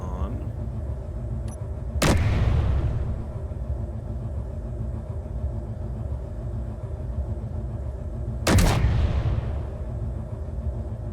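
Heavy turret firing in the Space Engineers video game, an interior turret letting off two separate booming shots several seconds apart, each a sharp broadband blast with a rumbling tail over a steady low engine drone.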